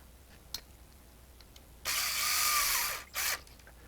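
A screw is driven into the tough plastic housing of a Walter 6141 D electric die grinder during reassembly, heard as a brief motorized whir followed by a short second burst, close, over a quiet background.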